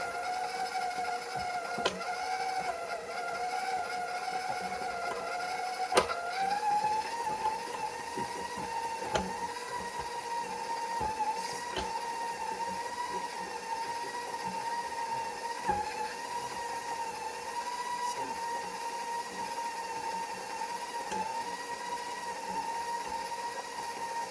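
Electric mixer beating an egg mixture for pie crust, a continuous steady motor whir with a pitch shift early on and faint clicks and knocks as the mixer jumps around, no talking.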